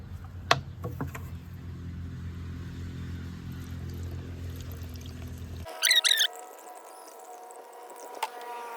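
A 3G solution strained through thin cloth tied over a bucket, heard as a steady pouring, trickling flow for several seconds before it cuts off. A few brief clicks and a whining noise follow.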